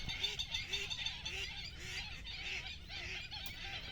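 Repeated nasal honking calls from a group of wild ducks, steady and fairly close, over a constant outdoor background hiss.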